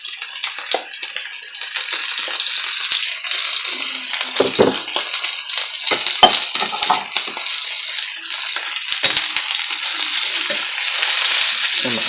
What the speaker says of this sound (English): So now we're going to go ahead and add in all of those vegetables right out in there.